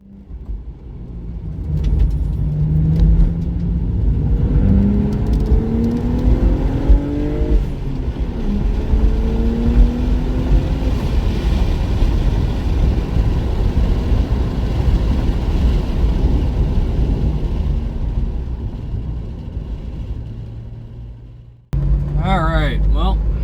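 2008 BMW E82 135i with upgraded oil cooling driving on a race track, engine droning loudly for about twenty seconds with rising and falling pitch from inside the car, then a voice speaking near the end.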